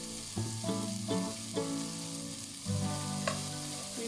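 Chopped carrot, pumpkin and beans are stirred in a pot, with a steady close sizzle and scraping stir strokes, over a constant tonal hum and no talking.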